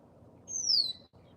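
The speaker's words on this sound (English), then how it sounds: "That's a red-winged blackbird call." A red-winged blackbird gives a single clear, high whistled call with a slight downward slide, heard once over faint low background hum from an outdoor nature camera near an eaglet nest.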